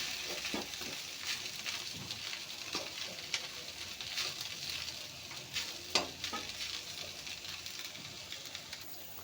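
Soaked sabudana (tapioca pearls) is stirred into sautéed potatoes in a pan for Gujarati khichdi, giving a continuous soft sizzle with repeated scraping stirs and small clinks throughout.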